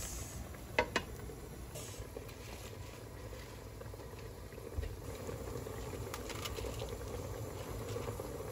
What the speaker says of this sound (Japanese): 沸騰したんで蓋閉めます。